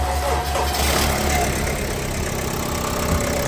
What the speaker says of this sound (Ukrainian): пробуємо холодний старт